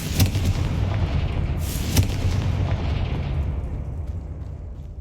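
Booming spell explosions from Confringo blasts in the video game Hogwarts Legacy, loud heavy rumbling bursts with sharp cracks around the middle, fading slightly toward the end, no voices.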